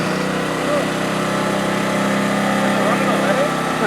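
Engine of an old GMT400 shop truck with a blower runs steadily as it moves, a continuous mid-loud drone with some voices beneath.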